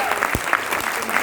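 Applause at a Hindi poetry recital (kavi sammelan): a brief burst of dense, close hand-clapping from the audience, steady for just over a second with no talk over it.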